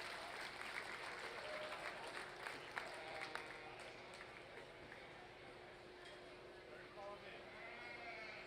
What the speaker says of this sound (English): let's go ahead and give this young lady right here a nice hand